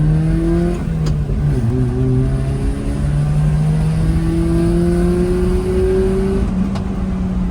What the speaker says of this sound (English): this is a 0 to maybe 60 kilometers an hour pull.